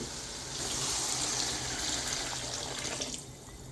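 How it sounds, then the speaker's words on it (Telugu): Water pours steadily into a rice cooker pot, a close, continuous gushing splash that tapers off slightly near the end. "ముందుగా ఇరవై గ్లాసులు వాటరు పోసేద్దామండి"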